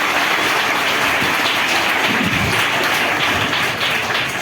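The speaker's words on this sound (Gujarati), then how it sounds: "આપણે એક વખત ફરી પાછા જોરદાર તાળીઓથી વધાવશું" People clap loudly and continuously at the inauguration of a shed at Taluka School No. 3 in Wankaner, Morbi district. The dense, pattering applause holds steady throughout, with no talk.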